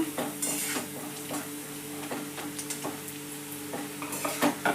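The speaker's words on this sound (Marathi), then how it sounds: "हळद अशी मिक्स करून घ्यायची चपातीचा चुरा घालून घ्यायचा" Leftover chapati crumbs and turmeric being stirred in a pan for upma, with repeated close spatula scrapes and taps against the metal over a faint background sizzle.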